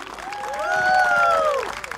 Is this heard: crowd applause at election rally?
yes